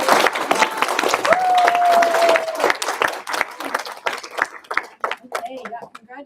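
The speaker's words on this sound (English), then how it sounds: "So let's give a round of applause to them." Audience applause for camp staff at the closing presentation of a university autonomous driving camp: steady clapping from a crowd, loud at first and thinning into scattered claps toward the end, with a tone and voices mixed in.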